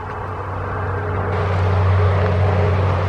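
Traffic on a nearby highway, US 41, makes a loud, steady low rumble and hum that swells slightly as a vehicle passes close by, with no talk.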